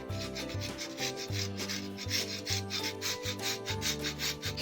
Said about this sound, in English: So I'm just gonna shave this on here.